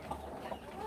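Hens on a Brazilian backyard poultry farm cluck softly at moderate distance, a couple of short clucks rising above a steady low ambient hum of the coop.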